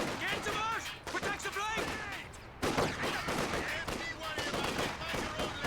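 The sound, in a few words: bolt-action rifle gunfire in strategy video game mod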